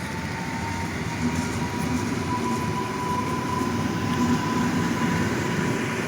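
A Malczewski passenger train passes at Poznań Dębiec station, a steady close rumble of wheels and carriages with a faint squealing tone, continuous for the whole stretch with no talk.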